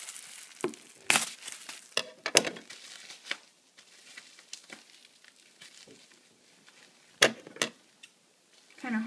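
Plastic bag holding Japanese Team Rocket trading card packs crinkled and rustled while being opened, in short bursts of crackling with quiet gaps between, close to the microphone.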